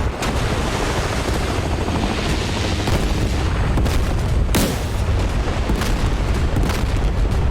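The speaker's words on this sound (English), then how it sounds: "Wow, we've really got those guns going. Oof. And the missiles are lighting off too." Naval guns and missiles fire in the DCS World video game during a battle between a US and a Russian warship. A dense, loud, continuous rumble of blasts comes through, with sharper booms punctuating it.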